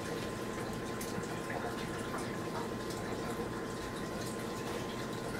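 Steady rushing water flows continuously during a colonic hydrotherapy session, a constant filling, pump-like wash of liquid at an even level throughout.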